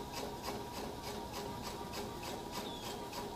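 A sewing machine stitching an Ankara and faux leather bow tie chatters in a quick, regular rhythm of needle strokes. It runs steadily, close and fairly quiet, with no voices.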